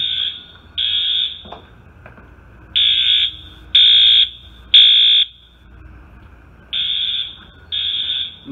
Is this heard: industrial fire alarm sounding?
yes